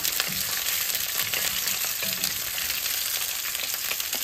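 Stuffed brinjals fry in a pan in a loud, dense, continuous sizzle close by, crackling evenly throughout with no voices.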